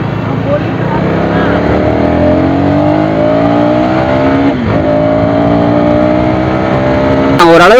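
A KTM Duke 250 motorcycle rides fast through traffic, its loud engine note rising and falling through gear changes with a sharp rev near the end, close and continuous.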